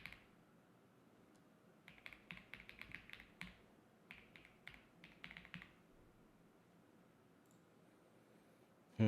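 Quick computer clicks and taps while placing an online perfume order, coming in close, quiet bursts with pauses and no talking.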